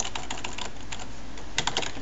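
Fingers tap quickly on a computer keyboard in uneven bursts of light clicks, close and clear with no voices.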